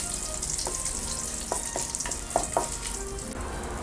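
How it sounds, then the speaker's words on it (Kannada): Mustard seeds, cumin, curry leaves, garlic and dried chillies frying in hot oil for a tomato gravy, a steady close sizzle with a few sharp pops and crackles, no talking. "ಫ್ರೈ ಆಗಲಿ ಇದು."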